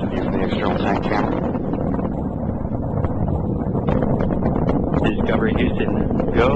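Space Shuttle Discovery's engines roar continuously during its STS-116 ascent, a dense, steady broadband rumble with wind-like buffeting that stays loud and unbroken throughout.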